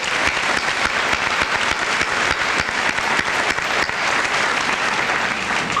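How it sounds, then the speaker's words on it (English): A large audience applauding at a high school senior assembly, loud and sustained clapping from a big crowd, dense and even throughout, with a faint murmur of voices beneath. "Let's give everybody a round of applause."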